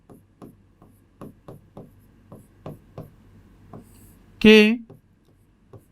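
Chalk or marker tapping and writing on a classroom board during a chemistry lesson, a series of short, sharp, evenly spaced strokes heard up close, with one brief spoken word partway through.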